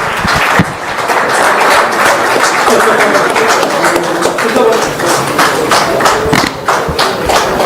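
Audience applause at a large business summit, a dense continuous wash of many hands clapping that fills the whole stretch at steady loudness, with no voices standing out.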